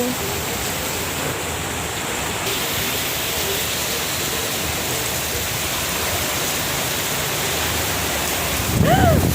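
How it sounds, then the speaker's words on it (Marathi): Heavy monsoon rain in Vasai pours down in a dense, steady roar that doesn't let up, growing a little louder in the final moments. "किती जोराने पाऊस येत आहे हे बघा"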